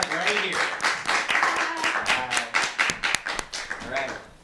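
An audience claps for performer Mina Bond at a live show: dense, fast hand claps build into a loud, close ovation that swells and then thins out.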